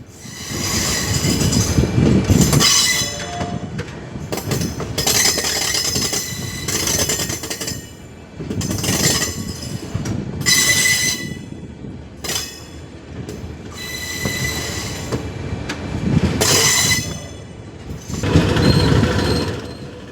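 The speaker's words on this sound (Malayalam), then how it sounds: "അല്പസമയം ട്രാക്ക് ശബ്ദം ശ്രദ്ധിച്ചാൽ" Train wheels rumble and clatter loudly along a ghat section track on the Sengottai–Punalur line, with recurring metallic squeals and rhythmic clanking as carriages roll past, no voices.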